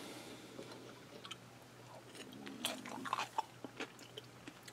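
Crunchy bites of a corn chip topping on an Instant Pot taco casserole with cheese and green onion, heard close and fairly quiet as several crisp crunches and chewing sounds come in an irregular rhythm.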